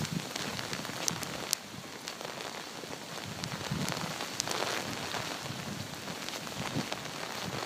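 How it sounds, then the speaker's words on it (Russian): Hail and heavy rain patter densely and steadily on surfaces outdoors in a December downpour with wind, scattered sharper ticks from hailstones standing out from the constant wash, with no voices. "Еще град, блин, какой-то."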